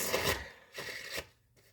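A riffle of cards fluttering briefly, then a second shuffle burst, close and fairly quiet, with a soft tap at the end.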